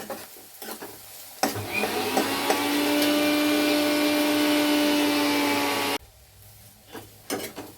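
Onions fry until brown in a pan with a loud, steady sizzle and hiss that lasts several seconds, with a humming tone under it, then stops abruptly and leaves quiet clatter.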